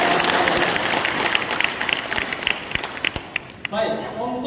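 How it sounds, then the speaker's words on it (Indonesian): An audience gives dense, sustained clapping for candidates taking the podium at a debate. The applause fades out and a voice begins speaking at the end. "Berikan tepuk tangan yang meriah untuk ketiga paslon."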